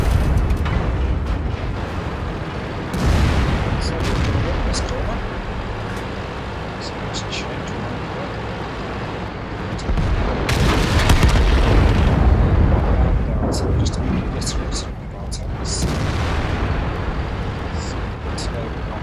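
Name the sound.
IS-7 tank cannon fire in World of Tanks video game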